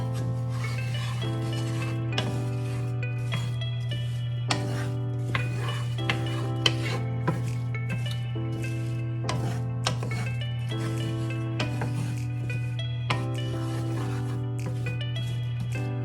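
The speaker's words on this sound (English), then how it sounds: "So now I'm going to stir this around to coat the apples in the butter." Apples are stirred in butter in a skillet: repeated rubbing and scraping strokes of a utensil against the pan over a steady low hum, with no talk.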